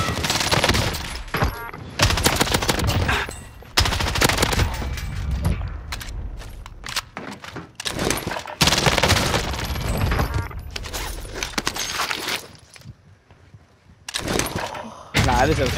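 Bursts of gunfire from Call of Duty Warzone, rapid and loud volleys with repeated shots and booms coming in clusters across the clip, under overlapping player voices.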